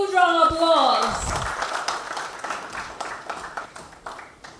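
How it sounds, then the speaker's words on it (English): At an award function, a brief voice gives way to audience applause, a crowd clapping steadily that gradually fades. "Let's have a huge round of applause."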